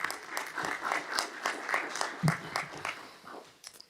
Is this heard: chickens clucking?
no